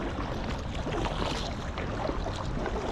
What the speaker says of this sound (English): Right, we just paddle hard.